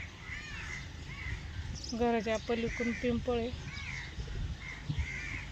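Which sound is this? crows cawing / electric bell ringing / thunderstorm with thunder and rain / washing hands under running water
crows cawing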